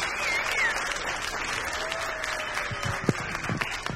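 Concert audience applause fills a hall, steady and moderately loud throughout, with a few sharper claps and faint whistles near the end.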